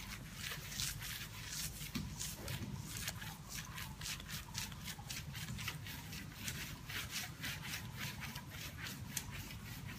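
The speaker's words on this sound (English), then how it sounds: "now all you hear is the cloth moving. Just a very bit of friction." A clay decontamination cloth glides over car paint with almost no pressure, giving a faint, even, rapid rubbing hiss of light friction, close by and quiet throughout, with no voices.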